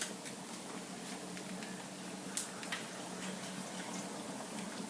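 Hot water is poured into glass canning jars packed with beans, giving a quiet, steady watery hiss and trickle with a couple of small clinks, close by and unaccompanied by talk.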